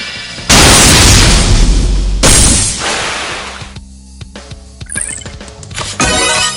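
Multiple beam launcher attack from the video game MegaDimension Neptunia VIIR: a loud booming blast bursts in, cuts out briefly, then a second heavy explosion rolls into a fading rumble with scattered crackles before another burst near the end.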